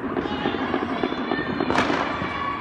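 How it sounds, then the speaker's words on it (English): New Year fireworks burst repeatedly in quick irregular crackles and pops, with one sharper bang standing out, loud and close, while a voice speaks faintly. "Raven, come look at the Raven, come look at the fireworks."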